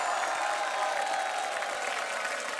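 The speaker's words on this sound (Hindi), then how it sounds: "तो इनके लिए तालियां हो जाएं भरपूर" Applause from a studio audience on a comedy talk show, a dense, even wash of clapping holding at a steady level throughout, with faint crowd murmur beneath.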